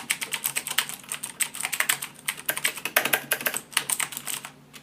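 Typing on a 2013 Razer BlackWidow mechanical keyboard, rapid irregular clicky keystrokes in close succession, close up and clear, ending with a short pause.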